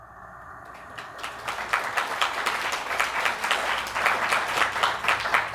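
Audience applause at a talk, rising out of near quiet into steady, dense clapping that grows a little louder and keeps going to the end.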